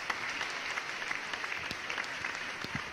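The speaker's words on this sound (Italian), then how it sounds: "Applausi." A studio audience claps steadily throughout, a dense patter of applause heard at moderate distance with a few sharper individual claps standing out.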